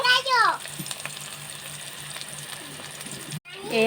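Onions frying in a pan until browned give a soft, steady sizzle under a clear voice speaking at the start and end, with a brief drop to near silence just before the end.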